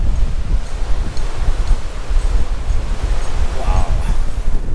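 Strong wind buffets the microphone in loud, rumbling gusts at a beach campground in Santa Barbara, California, with surf washing in the background and a brief voice near the end.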